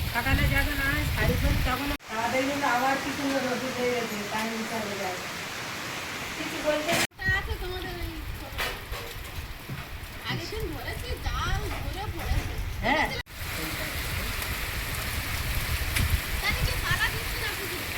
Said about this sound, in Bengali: বৃষ্টি শুরু হয়েছে, বিশাল বৃষ্টি হচ্ছে আবার